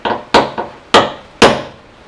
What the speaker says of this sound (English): I'm just putting my little center punch on there